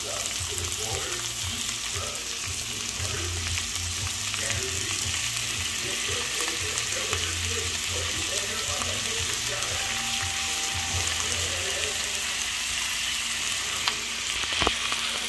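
Tomatoes and onions fry in a pan for pakbet, a steady close sizzle with occasional stirring scrapes that runs throughout, while someone speaks quietly in the background.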